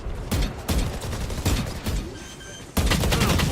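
Rapid bursts of gunfire from Valorant during a professional 100 Thieves versus MIBR esports match, several sharp volleys firing in quick succession with brief gaps, loud and close throughout.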